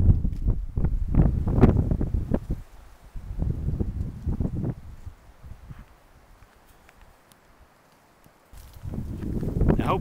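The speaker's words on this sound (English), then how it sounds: "now the wind's picked up, so there'll probably be some wind noise on the video" Low, rumbling wind buffeting hits an outdoor microphone in gusts along a wooded trail in Clay County, Alabama, strong at first, easing midway, then surging again at the end.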